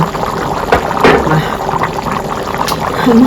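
Chicken dum biryani simmers in a covered pot, giving a soft, steady bubbling hiss with a few faint clinks and pops throughout.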